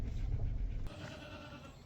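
A goat in the back of a vehicle on a homestead gives a short, loud bleat at close range, then quieter background sounds follow after a sudden drop.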